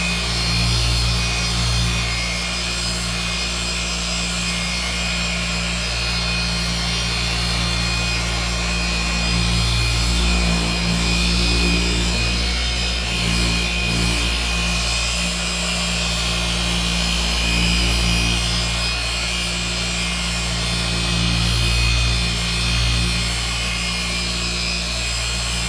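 Quick hand-polishing passes with cutting compound over a scratched surface make a constant rough rubbing hiss, close and steady for the full length, with slight swells and no voices.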